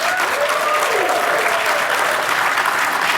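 A crowd applauds steadily, a dense wash of clapping that stays loud and even throughout.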